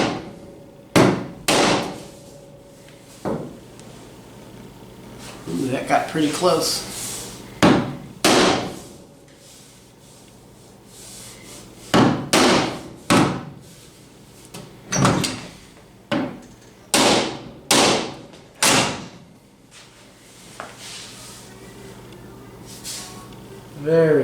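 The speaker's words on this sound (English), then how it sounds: "I'm gonna try my trusty rubber mallet and see if I can just coax that in there." A rubber mallet strikes a body panel on a 1971 Chevy Blazer in a run of sharp, loud thuds, some single and some in quick clusters, with someone speaking briefly between blows.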